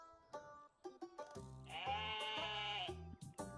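Sheep bleat repeatedly in the Terracards video game, a few short cries followed by one long, loud, wavering bleat, clear and close with no talk over them.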